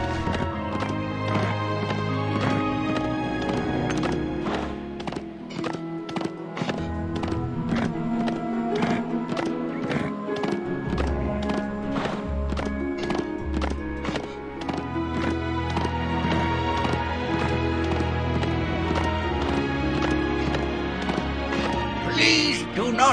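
Steady clip-clop of horse hooves galloping in the mobile game King of Kings - SEA, under a busy, continuous game music bed, with the rhythmic thuds running throughout.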